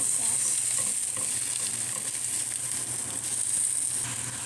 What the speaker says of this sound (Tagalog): Yan yung side dish na ating pan fry na